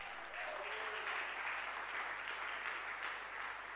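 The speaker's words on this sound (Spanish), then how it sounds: "merecemos un aplauso" A church plenary audience applauds: soft, distant, steady clapping from a gathered crowd, faint and even throughout with no voices over it.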